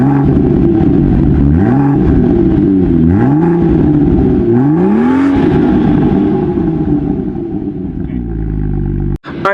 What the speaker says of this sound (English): that real throaty exhaust on the 2016 BMW M2